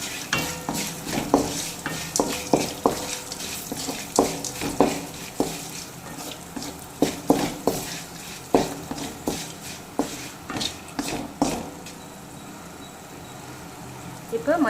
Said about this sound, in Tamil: மஞ்சள் தூள் பச்சை வாசம் போகிற வரைக்கும் நம்ம நல்லா கிளறி விட்டுக்கலாம்.